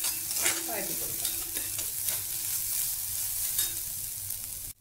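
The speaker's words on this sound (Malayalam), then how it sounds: "വഴറ്റി കൊടുക്കാം" Grated coconut and chutney ingredients sizzle steadily while being stirred in a pan, with scraping spoon strokes, close and fairly loud throughout, ending abruptly.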